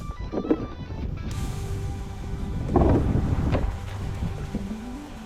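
Strong wind buffets the microphone while ultralight fishing at sea from a boat, with rumbling gusts swelling and easing in low, uneven surges close up and no talk.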